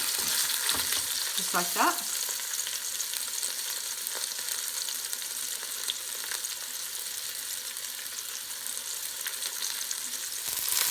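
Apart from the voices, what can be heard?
fish frying in cooking oil in a pan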